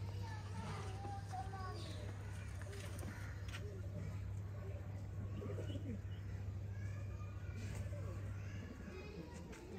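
Breeder pigeons cooing in a loft, soft repeated throaty coos and small chirps close by, with someone talking over them and a steady low hum underneath.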